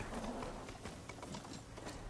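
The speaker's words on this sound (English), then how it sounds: "This is our bighorn sheep / charger machine." A bighorn sheep-style charger machine mount in a video game trots with rapid, even clip-clop hoofbeats, steady and fairly close over a dense noisy game backdrop, with no talk.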